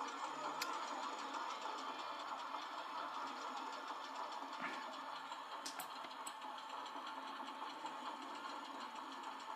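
Montu roller coaster running in RollerCoaster Tycoon 3, a game recreation of the Busch Gardens Tampa ride, with a steady rumbling, rattling train noise and a few faint clicks, continuous and moderately distant, with no talk.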